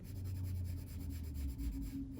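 Colored pencil crayons scratch and rub across cold-pressed watercolour sketchbook paper, making a faint, close, repeated rhythmic scraping of steady strokes.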